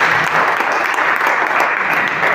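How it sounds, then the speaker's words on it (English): Applause fills a media conference hall as an honourable guest is introduced, a loud, even burst of clapping from the gathered attendees that holds steady throughout. "A round of applause"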